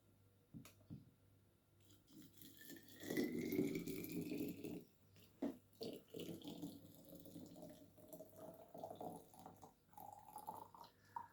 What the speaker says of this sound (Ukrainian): І заливаємо кип'ятком.